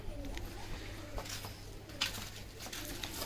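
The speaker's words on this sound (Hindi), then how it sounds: "ये मेरे कबूतर हैं टुकड़ी के" Pet pigeons from a flock kept for show coo and flutter close by, with soft wingbeat patters and bursts of movement over a steady outdoor background hum.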